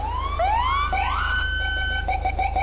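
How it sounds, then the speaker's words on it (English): A rumbler police siren on a FiveM sheriff's police car mod sweeps upward and then settles into a fast warbling wail over a deep pulsing low rumble, loud and continuous. "It's got the rumbler siren if you want that."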